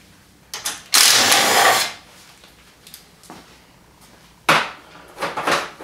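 A socket ratchet turns out 10mm bolts holding a support to the frame of a 2015 Wildcat Sport, heard as several short, close mechanical bursts of clicking and grinding separated by quiet gaps.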